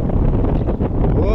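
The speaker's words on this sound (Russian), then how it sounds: "Ну вот, собственно, про какой ветер я и говорю." Strong wind buffeting the microphone beside a reservoir during a boat-fishing outing, a loud continuous low roar with gusty surges, with someone talking over it.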